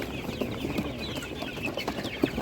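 Chickens cluck softly in short, scattered bursts close by at an animal market, with faint chirps over a low background murmur.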